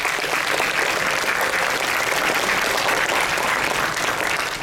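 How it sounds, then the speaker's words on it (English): Dense, steady applause from a large crowd at a career counselling event fills the whole stretch, loud and continuous without a break. "he truly deserves a huge round of applause"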